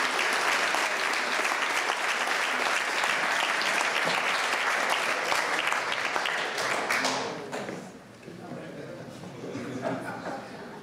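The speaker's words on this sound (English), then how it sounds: "Maybe you'd like to give these guys a big round of applause" Wedding guests applaud in a sustained, dense burst of clapping that fills the room for several seconds, then fades out, leaving quieter murmuring.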